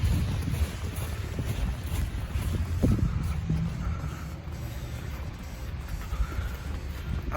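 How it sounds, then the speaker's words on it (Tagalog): Strong wind roars and buffets against the microphone during a Winnipeg snowstorm, a steady loud rushing with gusts rising and falling. "Ang hangin pa."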